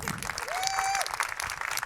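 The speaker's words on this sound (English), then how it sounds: "Yeah, you can clap for that." An audience at a university event claps for a future teacher's coming degree, a short burst of many hands with a faint thin tone ringing briefly through the middle.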